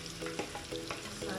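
Chickpeas and paneer tossed and frying in a pan with butter or ghee, a steady sizzle broken by a few soft scraping and stirring strokes over a brief stretch, no voices.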